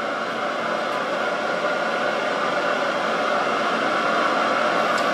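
A lathe motor runs steadily while cutting threads, giving a constant close broadband whir and hum at even loudness with no changes or voices throughout.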